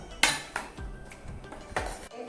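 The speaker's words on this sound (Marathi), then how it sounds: "आता ही साखर त्याच्यात मी मिक्स करते आहे एकजीव करते आहे" A spoon clinks and scrapes against a bowl while sugar is stirred into sattu flour, several sharp metallic taps in an irregular rhythm, close and alone.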